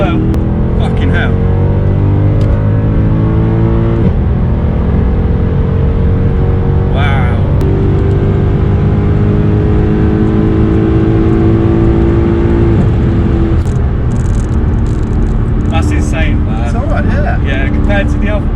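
A tuned Mercedes C63 AMG does a rolling burnout on a wet road, its engine roaring loud and continuous with rising revs and strained tyres, while voices sound now and then close by.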